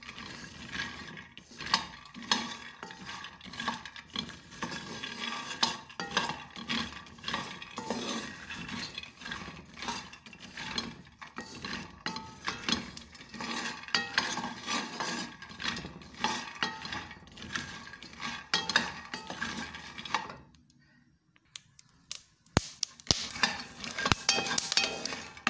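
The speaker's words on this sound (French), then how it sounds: "la première étape est de griller les arachides ou encore les cacahuètes" Peanuts are roasted and stirred in a pan, giving steady scraping and rattling with faint sizzle for about twenty seconds, then a brief hush before sparse clinks resume.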